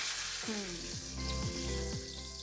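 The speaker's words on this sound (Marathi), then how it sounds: "आता या मिरच्या त्याच्यामध्ये आपल्याला फ्राय करून घ्यायच्या" Green chillies fry in a hot pan with a steady, close sizzle and crackle that runs through the whole moment, under a layer of tonal sounds.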